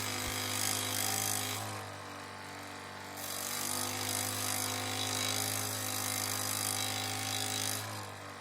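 Makita SJ401 power jigsaw cutting a model part, a steady motor hum with a raspy cutting whine that rises and falls in a few passes, quiet and close.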